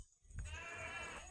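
A goat bleats behind a house, a single drawn-out wavering bleat that starts abruptly after a brief quiet moment and carries at moderate volume against faint background noise.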